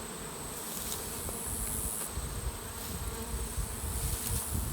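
A thick, constant drone of numerous honeybees around a hive after a swarm, loud and close, with no voices.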